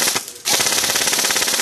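An airsoft M4 fires rapid full-auto bursts at bricks up close. A short rattling volley is followed by a brief pause, then a longer, fast, evenly spaced string of sharp clacking shots.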